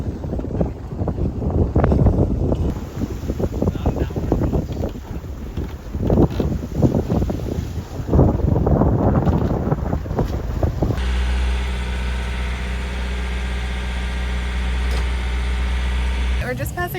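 Gusty wind buffets a sailboat on Kāneʻohe Bay, a loud rough roar in bursts that rises and falls over about ten seconds, then gives way to a steady engine-like drone with a constant low hum.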